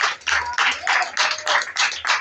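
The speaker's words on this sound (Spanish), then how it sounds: "esos aplausos son para el Rey de Reyes" Rhythmic congregational clapping in a church, loud and close, a steady beat of hand claps roughly every half second with no talking over it.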